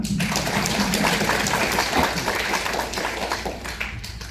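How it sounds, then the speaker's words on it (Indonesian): Dense audience applause fills a seminar hall, a steady wash of many hands clapping at close range that tapers slightly near the end. "Oke, tepuk tangan ya kita."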